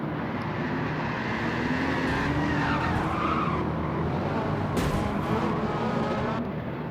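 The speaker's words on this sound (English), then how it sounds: "Another look at that ugly crash" A replay of a race car crashing on track during a Challenge Series race: engine roar and skidding tyre squeal, with a sharp impact-like burst near the end, heard from some distance.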